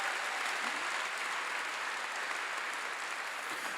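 Hands across a church congregation clap in a full, even roar of applause that holds steady for several seconds and fades only a little near the end; no speech over it.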